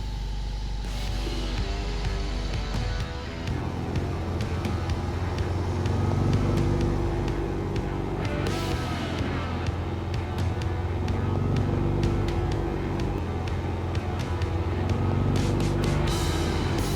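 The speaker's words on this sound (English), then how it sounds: "Oh, the bike sounds so nice." A BMW R18 motorcycle with its big boxer engine running steadily while riding, a loud continuous low rumble with some rising revs and wind noise throughout.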